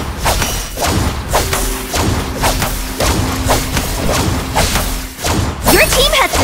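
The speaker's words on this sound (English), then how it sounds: "Your team has destroyed a guardian!" A guardian tower is destroyed in the 5v5 MOBA Extraordinary Ones, heavy thuds and booming impacts amid game effects and a steady hum, loud and continuous, with spoken announcements.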